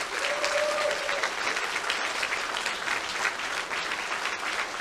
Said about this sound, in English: Everybody give a round of applause to